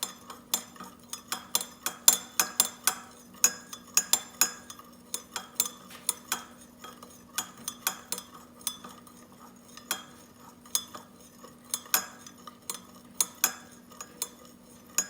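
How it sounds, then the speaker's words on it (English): Fragrance oil being stirred into melted candle wax, now in the opposite direction, with repeated close metallic clinks and scraping taps against the container in a steady, slightly uneven rhythm, no voices. "start stirring in the opposite direction for another 30 seconds"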